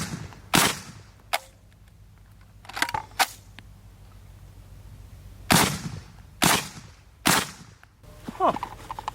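A 5.56 rifle fires single sharp, loud shots into a solid rubber target stand outdoors, about six reports spaced irregularly, each one a hard crack over a low background hum.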